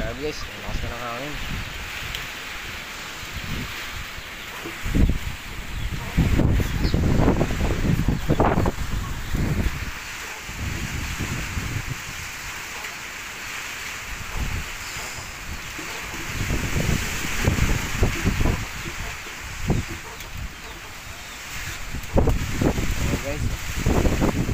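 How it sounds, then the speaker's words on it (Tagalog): Gusty typhoon wind surges and roars in waves, with rustling and rain-like hiss, and a voice speaking intermittently beneath the gusts, in the Philippine countryside. "ang lakas na ng hangin."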